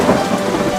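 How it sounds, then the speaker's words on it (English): Heavy rain pours down with a deep rumble of thunder underneath, loud and continuous in a brief storm sound effect from a children's storybook episode. "I wish it would rain again."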